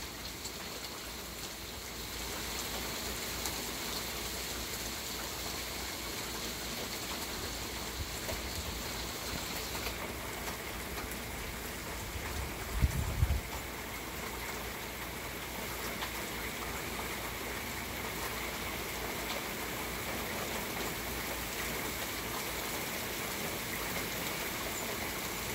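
Rain falls in a constant, even hiss, with a brief low thump partway through and no voices.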